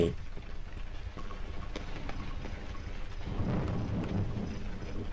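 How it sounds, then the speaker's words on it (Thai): Thunder from a lightning strike in the horror game Cry of Fear, a low rolling rumble that swells midway and lingers over rain-like background noise. "ฟ้าผ่าใช่ไหม"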